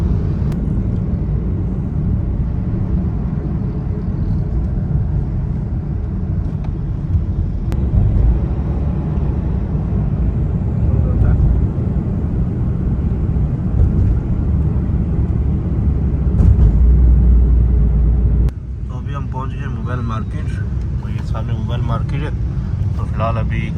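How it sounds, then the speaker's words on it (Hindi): A car heard from inside as it drives up to a parking area, giving a steady, loud low engine and road rumble for the whole stretch, with some voices over it and a sudden drop in level near the end. "तो फिलहाल अभी गाड़ी पार्क करते हैं"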